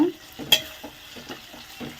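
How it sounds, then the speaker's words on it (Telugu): Spices for an upma tempering crackle in hot oil, a soft sizzle broken by a few faint stirring scrapes and a sharp pop, close and fairly quiet, with no speech. "మేమైతే ఉప్మా చేసుకోవడానికి తాలింపులు వేసుకున్నాం అనమాట."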